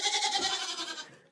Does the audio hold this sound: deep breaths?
no